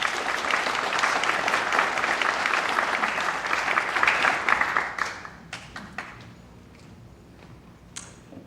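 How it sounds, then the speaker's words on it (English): A conference audience at a monitoring tech event gives a big round of applause for the opening speaker, dense clapping that thins out midway into scattered individual claps and a few late stragglers. "Big round of applause, please."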